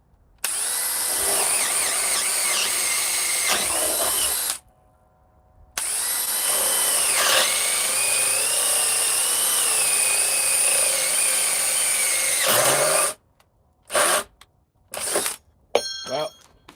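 Power drill boring holes and driving lag screws into wood, loud and nearly continuous in two long runs with a short pause between, then several brief bursts at the end as the screws are driven.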